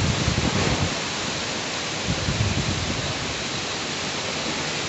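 Heavy rain pouring and splashing during a violent storm, a loud, steady broadband roar of water close by with no pauses.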